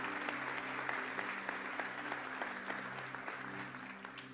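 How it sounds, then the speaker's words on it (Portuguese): Steady applause from a church congregation, a dense wash of clapping hands that holds at an even level throughout with no talking over it. "Você pode dar um aplauso a ele?"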